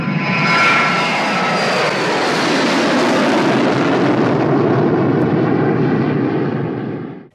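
A Lufthansa Boeing airliner flies past with its jet engines roaring loud and steady, a broad rushing drone that fades out at the end, with no speech.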